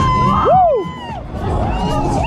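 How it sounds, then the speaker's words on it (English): Riders on a full fairground ride at a funfair let out loud, rising and falling screams and whoops, several overlapping shrieks close to the microphone over a steady crowd roar. "we got the screams coming out already"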